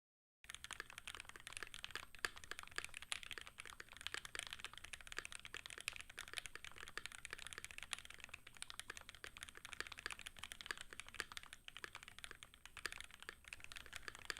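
Rapid, clacky typing on a modded Keychron Q2 mechanical keyboard runs continuously at a brisk, uneven rhythm, close up and crisp, with no talking.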